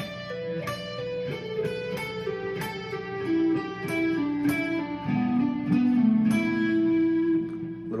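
Guitar lesson lick played slowly: a descending pentatonic run in sixteenth-note triplets, with evenly picked single notes stepping downward, fairly quiet and close, no voice over it.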